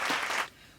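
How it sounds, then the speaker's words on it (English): A short burst of applause-like clapping lasting under half a second, fairly close and full, then quickly dropping away to quiet. "You got to clap when each one comes on."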